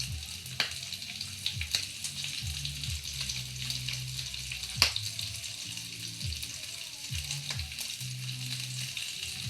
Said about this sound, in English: You can see there's some grease spitting out, so you want to be mindful of that when you're cooking the bacon.